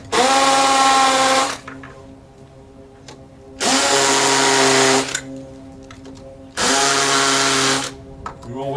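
A power drill whirs loudly in three separate bursts of a second or two each, drilling holes with a small bit, with quieter pauses and faint handling sounds between them.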